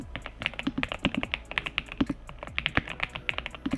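Typing on a NuPhy Halo96 V2 mechanical keyboard produces quick, crisp clacking keystrokes in an irregular rhythm, close and clear with no voice over them.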